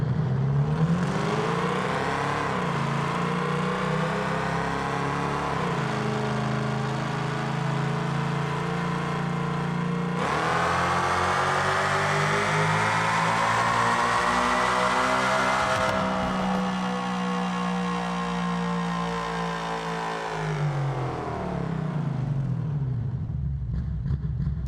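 Muscle truck engine in BeamNG.Drive revving hard and climbing through the gears, with loud sustained harmonic roar, rising pitch sweeps and a clear shift near the middle, no talking.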